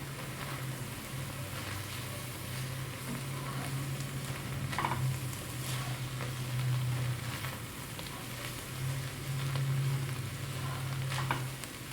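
Flour whisked into a simmering ground beef stew, a steady low bubbling sizzle with light rhythmic whisk strokes, close and continuous, no voices.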